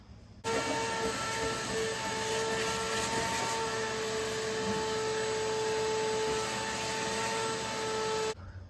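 A vacuum cleaner runs steadily for several seconds while cleaning out a car interior, a close, constant droning whine with a tonal hum, starting and stopping abruptly, with no talking.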